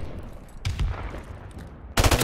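Video game gunfire during a 2v2 Search and Destroy match: a short burst early on, then quiet, then a loud close burst of automatic fire at the end.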